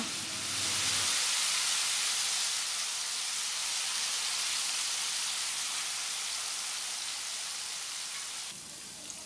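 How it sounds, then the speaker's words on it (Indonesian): Tofu frying in hot oil in a home kitchen, giving a loud, steady sizzle and hiss that continues throughout. "Sekarang aku mulai goreng tahunya ya."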